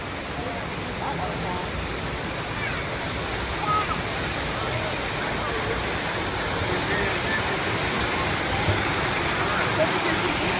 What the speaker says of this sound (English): There are 2 waterfalls here in the Delta.